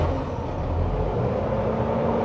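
A restored 1977 Toyota FJ40 Land Cruiser with an upgraded fuel-injected engine runs at a steady, close idle, a continuous low rumble with no pauses and no voices.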